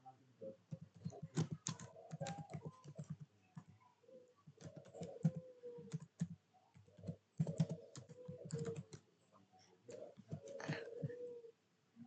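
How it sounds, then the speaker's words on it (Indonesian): Commands being typed on a computer keyboard while configuring VLAN and trunking on a network switch: quick bursts of close clicking keystrokes in irregular runs with short pauses, fairly quiet, birds cooing faintly in the background. "Kita ketik komennya."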